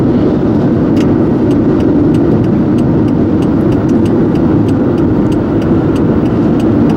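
A car engine at full throttle on the highway roars loud and steady, with constant road and wind noise and faint ticking clicks along the top.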